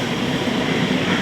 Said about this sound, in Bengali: 5টার ট্রেন ঢুকলো